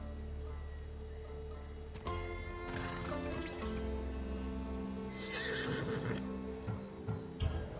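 A horse neighs with a long, shrill whinny over a steady low hum, accompanied by scattered hoof clip-clops and thuds near the end.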